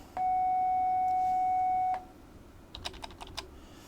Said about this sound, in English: you probably heard the bell ring and my next class is starting here real quick